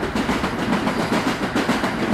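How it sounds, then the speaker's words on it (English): A small toy train at an antiques shop outdoors in Burlington, New Jersey, gives off a steady, rhythmic clickety-clack running throughout, moderately loud and close, with no talking over it. "A little train here."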